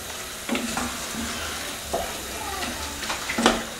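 Mince browning in a pan for bolognese sauce, a steady low sizzle with several sharp scrapes and stirring knocks, fairly close, no talking.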